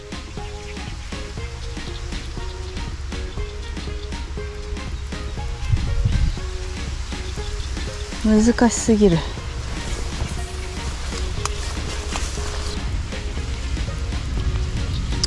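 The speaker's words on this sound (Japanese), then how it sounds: "雨が、大粒の雨が降ってきたので" Heavy rain with large drops falls steadily during lakeside bass fishing in the Kasumigaura waterway, a constant hiss under speech, with a few brief louder bursts partway through.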